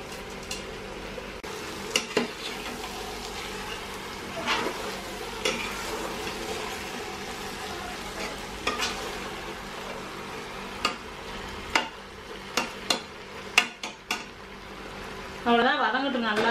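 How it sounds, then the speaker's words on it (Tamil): Country chicken biryani masala with large, salted chicken pieces is stirred in a pot, giving soft scraping and occasional sharp spoon knocks over a low, steady sizzle at moderate loudness. "பெரிய பெரிய பீஸாக இருக்கனால கிளறது கஷ்டமாக இருக்குது"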